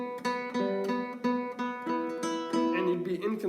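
Classical guitar notes are plucked by alternating fingers in a steady rhythm, each attack landing with a slightly different, uneven tone, played close and clear with no talking.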